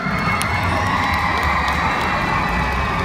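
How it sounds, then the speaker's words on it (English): Arena crowd at a Monster Jam show cheering loudly for the Megasaurus truck, with children's shrieks and whoops over a constant dense roar and low engine rumble throughout. "Kids, give him a big round of applause."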